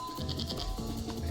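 A goat bleats once in a video game, a short wavering call heard close over a faint background hum.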